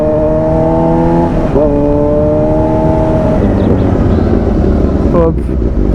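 A Suzuki GSXR 600 motorcycle engine whines loudly at a high, steady pitch, then drops and rises as it shifts, with a brief sharp rev near the end over a rough, close background rumble.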